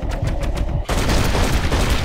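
Rapid gunfire in Red Dead Redemption Undead Nightmare: a string of quick, evenly spaced shots cracks out, then a louder dense burst of firing takes over, close and forceful.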